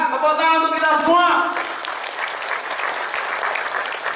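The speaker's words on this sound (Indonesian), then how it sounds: "Tepuk tangan untuk kita semua" Applause from an audience at a corporate motivational event fills the room with dense, even clapping that carries on to the end. During the opening moment a voice rings out over the clapping.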